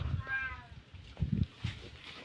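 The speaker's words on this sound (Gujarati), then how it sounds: "આને ભૂરું કઈને મીંદડો રાડ્યો દી" A tomcat lets out a drawn-out, wavering yowl early on, followed by a few low thumps and rustles nearby.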